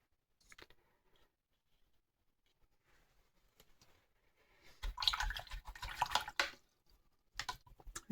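A paintbrush is swished and rinsed in a jar of water between watercolour washes of alizarin crimson and ultramarine purple, giving a burst of close sloshing and dripping after faint taps, then a second short splash.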